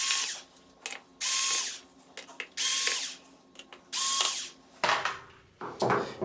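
A power screwdriver backs out four screws from the main board of a Sony XBR-55X900C television in short, close whirring bursts separated by pauses, ending with faint handling noises.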